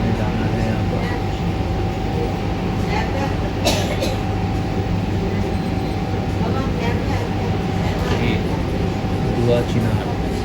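Ambient rumble of a metro train at a railway metro station, a continuous loud low drone with a steady mechanical hum and faint clanks, heard without clear speech.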